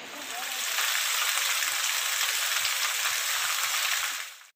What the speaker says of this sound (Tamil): இதேபோல் விருதுநகர் புறநகர் பகுதிகளில் மழை பெய்தது